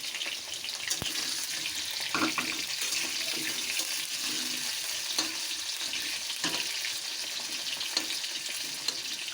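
Potatoes frying over high flame in a pan, a steady broadband sizzle and crackle running throughout with a few brief clinks, with no talking.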